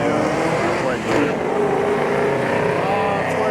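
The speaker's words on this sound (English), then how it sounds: "Let's see what this 57 Chevy and this square body do." A 1957 Chevy and a square body truck run a drag race at Beech Bend Raceway, engines roaring loud and steady with a rising, rasping note, heard from the spectator side.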